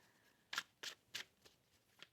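Tarot cards are shuffled in a quiet room, a series of about six crisp riffling bursts, the first three loud and close, the later ones lighter and spaced apart.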